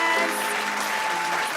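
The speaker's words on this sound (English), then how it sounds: "keep on clapping, keep it coming" An audience claps at a Black History Month performance in a performing arts center, a brief, steady wash of applause from a full crowd, loud and continuous.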